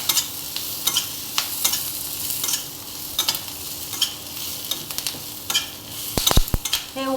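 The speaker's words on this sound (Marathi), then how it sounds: "खोबरं, टॅमॅटो चांगलं परतून घेऊया आपण." Grated coconut, tomato, coriander stems and curry leaves sauté in a pan for an urad dal curry, with a constant close sizzle, repeated scraping stirs and a few sharp utensil knocks near the end.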